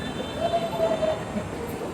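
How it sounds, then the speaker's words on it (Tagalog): Steady rumble of an LRT light rail train in motion, heard from inside the car, with continuous wheel and track noise and faint squealing tones, fairly loud and without talk. "Nasa LRT kami at wala kaming hiya."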